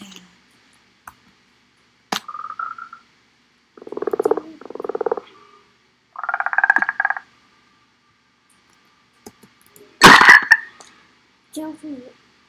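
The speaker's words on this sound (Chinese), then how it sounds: "青蛙真怪的。" A frog gives loud, pulsing, croaking calls in distinct bursts separated by silence, with one sharp louder knock partway through.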